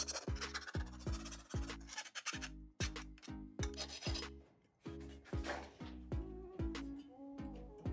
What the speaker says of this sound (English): I take a file and I'm gonna go ahead and cut down on this inner lip all the way along here